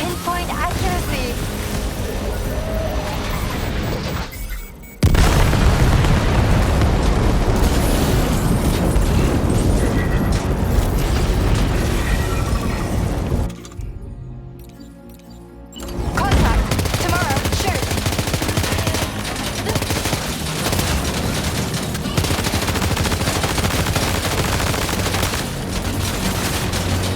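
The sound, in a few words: gunfire and explosions in the video game Death Stranding 2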